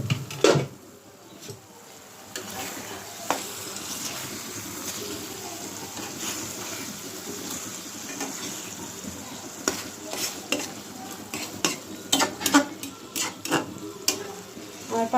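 Hilsa fish frying in a pan, a soft steady sizzle with frequent clinks and scrapes of a utensil against the pan as the fish is turned, busier toward the end.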